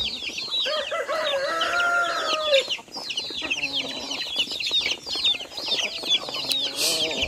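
Native chickens cluck and crow nearby, a busy overlapping chorus of clucks and calls with a rooster crowing, sustained throughout with brief pauses.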